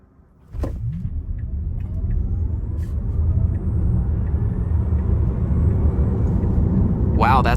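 A Tesla Model Y Launch Series pulling away hard: a sudden onset of steady low road and motor rumble with a faint rising electric whine, heard from inside the cabin, with a brief voice at the end.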